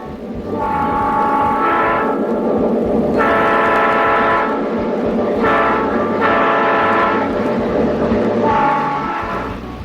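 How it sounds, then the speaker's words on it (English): Loud, sustained multi-tone diesel horn blasts from a Lionel model train set sound repeatedly in bursts of a second or two, over a continuous rumbling train. "the thrilling sounds of the railroad, from rousing steam whistles to powerful diesel horns"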